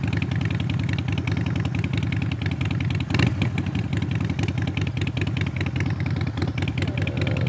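Harley-Davidson motorcycle engine idling nearby with a deep, steady pulsing growl and mechanical clatter, one brief louder blip midway.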